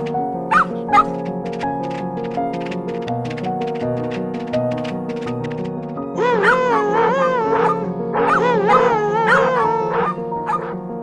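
Cartoon dog barking, howling and whimpering in an animated fairy-tale film, repeated yelps growing louder in the second half over background music.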